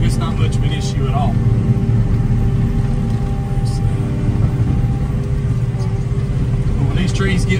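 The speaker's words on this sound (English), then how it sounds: "This mulcher really struggles." JCB-powered mulcher grinding through trees four to six inches thick, a heavy low engine rumble with straining, uneven load and occasional higher crunches, close and continuous, with voices over it.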